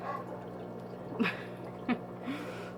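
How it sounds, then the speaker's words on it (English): A few dogs bark in short, separate bursts indoors, moderately near, against a steady low background hum. "my mom's dogs are barking."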